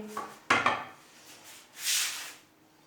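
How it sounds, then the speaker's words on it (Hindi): Finely chopped radishes dropped into a jug, a quick clattering thud of pieces landing, followed by a soft rustling scrape, close and quiet. "अब इसमें डालेंगे हम मूलियाँ, जिनकी हमने बरीक बरीक कटिंग की हुई है मूलियों की, ये डाल देंगे।"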